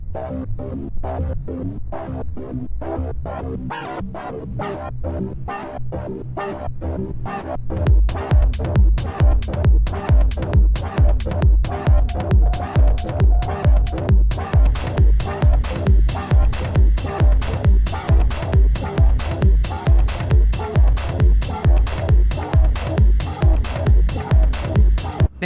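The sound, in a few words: flanger effect on synth line, u-he UHBIK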